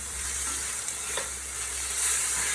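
A pan of chicken and green beans sizzles steadily on an electric stove as it is shaken around, a continuous bright frying hiss with a soft scrape midway and no talking.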